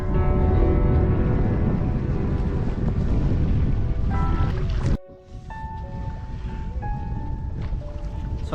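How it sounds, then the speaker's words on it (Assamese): Strong, cold wind at Pangong Lake buffets the microphone with a heavy, roaring low rumble that briefly cuts out midway, then gusts back in over faint tonal sounds. "বতাহ পানীবিলাক চব বতাহত কেনেকৈ উৰি আছে মাৰি আছে চব ইয়ালৈকে আহিছে বতাহ ঠাণ্ডা পুৰা মাৰি আছে"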